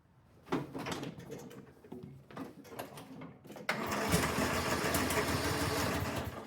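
A car engine catches after a few clicks and clunks, then settles into a steady, moderately loud idle for the remaining few seconds.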